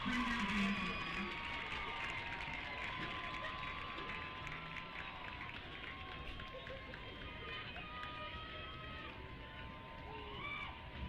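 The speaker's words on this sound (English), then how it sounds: "Please give a round of applause for these amazing seniors and their 6 years of dedication to the Springdale Band Program." Crowd applause and cheering at a Springdale High School football game senior night honoring band seniors, a steady broad wash of clapping and shouts from a large audience with some voices mixed in.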